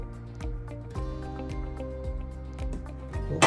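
Eight ounces of 10W30 motor oil poured out to make a spill, a close, steady glugging trickle with rhythmic wet drips and pulses, no voices.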